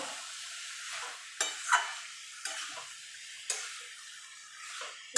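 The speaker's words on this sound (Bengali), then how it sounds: "দিয়ে এবার ভালো করে মশলার সঙ্গে মোচাটাকে মিশিয়ে নেব।" Boiled banana flower is stirred with spices in a pan for a vegetarian mochar ghonto, soft repeated scraping strokes and faint clicks of a spatula over a gentle hiss, quiet and close.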